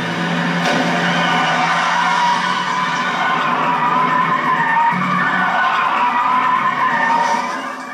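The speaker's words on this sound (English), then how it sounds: "Manauzi rammed the fugitive's car from behind." A car ramming a fugitive's car from behind: a sustained loud tire screech and skid with roaring engine, steady and close for several seconds before easing off.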